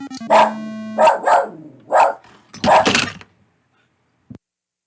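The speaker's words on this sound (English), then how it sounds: "My dog just kind of threw a fit." A dog barks in four loud, close bursts spaced about a second apart, then falls quiet; a single faint knock follows near the end.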